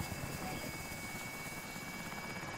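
A helicopter in a Call of Duty: Modern Warfare match throbs in a steady, faint rotor drone that holds evenly throughout.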